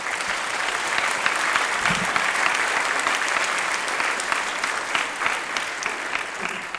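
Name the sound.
concert audience applauding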